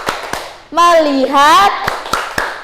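Rhythmic hand clapping for the tepuk fokus chant in a classroom setting, sharp close claps spaced around a spoken word, loud and clear.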